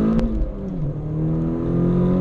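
Citroën Xsara VTS petrol engine revving while driving, a close, loud rising engine note with a faint clatter at the start, continuous and without speech.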